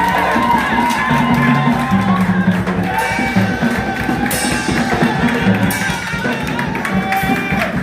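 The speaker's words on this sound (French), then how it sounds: "Les acclamations pour le Dieu de notre prophète." A church congregation acclaiming and cheering, a dense, loud, continuous wash of many voices shouting and calling out together with no pause.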